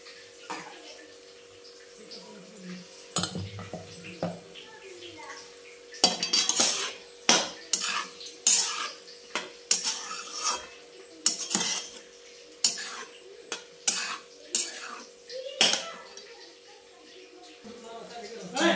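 A spoon stirs cooked cabbage vegetable in a metal pot, giving repeated scraping clinks and knocks in uneven bursts, close and fairly crisp.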